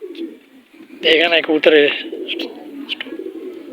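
A pigeon coos close by in a short burst of throaty, warbling calls, with someone speaking briefly alongside it.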